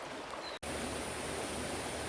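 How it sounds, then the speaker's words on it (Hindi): A river flows in a steady, close, full hiss with no voices, in humid summer weather in a quiet spot; there is a very brief dropout early on. "नदी का पानी बड़ा मन को मोहता है।"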